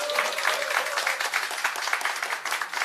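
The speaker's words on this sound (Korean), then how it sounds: "큰 박수 한번 부탁드리겠습니다" An indoor audience claps in welcome for a visiting party leader at a local community meeting in Chilgok, a brisk, moderately loud burst of many hands that holds steady for the whole moment.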